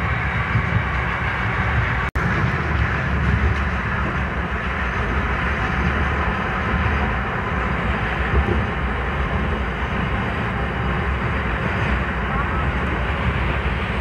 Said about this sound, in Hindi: पीछे से मालगाड़ी जो कि WAG 12B इंडिया के सबसे शक्तिशाली इंजन के साथ आकर ओवरटेक कर रही है